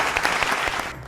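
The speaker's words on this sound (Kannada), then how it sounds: "ನಮ್ಮ ವಾದ್ಯ ವೃಂದದವ್ರಿಗೂ ಬರಲಿ ಜೋರಾದ ಚಪ್ಪಾಳೆ." An audience on a televised singing reality show gives the orchestra a round of applause: dense, close clapping that holds steady, then tapers off near the end.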